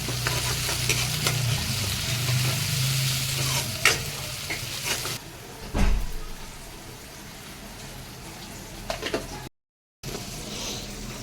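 Onion, tomato and coriander sizzle in a pan, a close, steady frying hiss broken by a few utensil scrapes and knocks. A low hum is heard at the start, and the sound cuts out briefly near the end.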